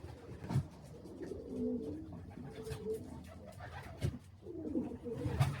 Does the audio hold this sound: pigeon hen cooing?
yes